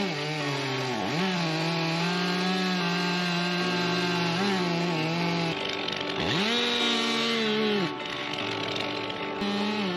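A chainsaw cuts up a massive felled dead tree at a camp, the engine droning loudly and continuously with pitch dips and surges as the bar bites into the wood and the throttle rises.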